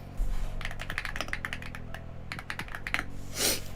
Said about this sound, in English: Doesn't my keyboard sound kind of sick, though?